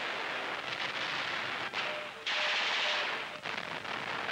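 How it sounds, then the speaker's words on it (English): Guns fire point blank at a farmhouse in World War II German invasion of Russia footage, a steady roar of rapid shots and blasts with brief lulls, dense and distant-sounding. "Training guns point blank, they blast away a section of the house, advancing by short rushes as they close in"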